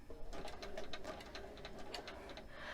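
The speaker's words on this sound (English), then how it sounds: "Another thing that's really nice about this sewing machine is that you can change the speed right here" A sewing machine running and stitching, a fast, even train of mechanical ticks and whirring pulses, fairly close and steady with no voices.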